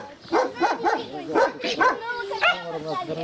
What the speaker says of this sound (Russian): Там такие собаки.